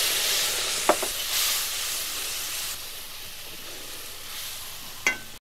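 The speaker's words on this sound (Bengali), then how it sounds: "এই গুলানোটা এবার দিয়ে দেবো তেলের মধ্যে।" Cumin, coriander and chili powder paste sizzling in hot oil in a pan, a continuous close hiss with a couple of short clinks of a utensil.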